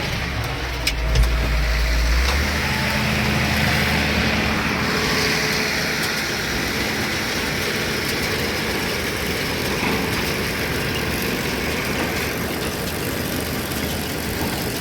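A Claas Rollant 255 baler-wrapper running in a hay field while wrapping net around a bale and ejecting it, a steady loud engine drone with a brief clunk near the start and continuous mechanical whirring.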